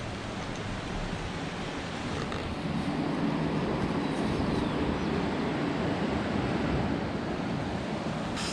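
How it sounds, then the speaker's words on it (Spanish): A waterfall in Colombia roars as a steady, loud rush of falling water, unbroken for the whole stretch with no voices. "vamos a ir a una cascada"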